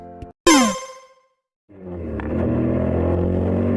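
A Royal Enfield Interceptor 650 motorcycle pulling hard in second gear, its engine rising into a steady close roar after a sharp metallic clang and a brief silence.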